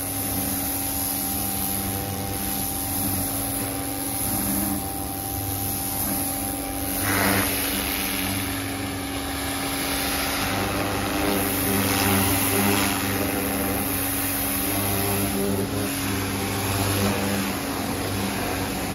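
A pressure washer fitted with a turbo nozzle blasts grime off an old farm shed, a steady loud hiss and roar running without break, with an engine drone beneath and the spray surging slightly as it moves across surfaces.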